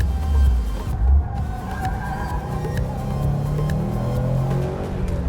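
A 2018 Subaru WRX STI Type RA engine revs steadily under load during a drive, a continuous near growl with rising and falling pitch, faint talk at moments.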